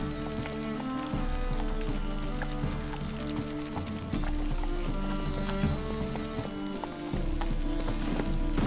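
A horse gallops in The Witcher 3 video game, its rapid rhythmic clip-clop hoofbeats running continuously over a layered game soundscape with a musical score beneath.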